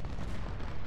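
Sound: canister shot artillery fire in the video game Ultimate General: Civil War

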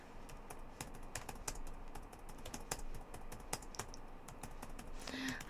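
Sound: typing on a computer keyboard

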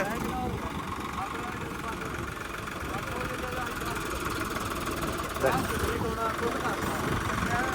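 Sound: tractor engine idling

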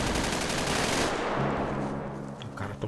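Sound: gunfire in video game GTA 5

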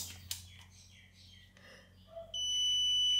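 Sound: multimeter continuity test beep

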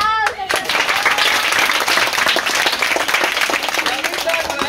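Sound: audience applause at a clown show

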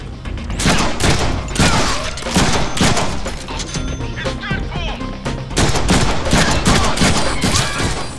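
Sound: gunfire from enemies shooting in the Deadpool video game

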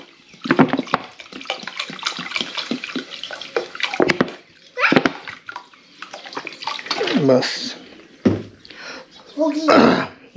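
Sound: pouring water into a pot of meat and noodle soup

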